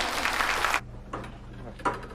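An audience at a corporate group event bursts into loud applause for a brief moment, then it cuts off abruptly into a quiet room with a few faint knocks and shuffles.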